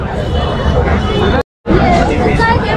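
Dense crowd chatter fills a busy village fair market, many overlapping voices and general hubbub at close range, briefly cutting out for a moment before resuming.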